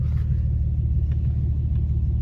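A tuned 2014 Infiniti Q50 with a boosted VQ engine runs at a steady idle, a loud, even low rumble that holds constant throughout, with no voices over it.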